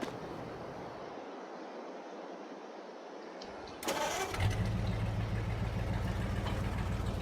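A Ford vehicle engine in Farming Simulator 22 cranks and fires up, after a quiet stretch, then settles into a steady, droning idle close by.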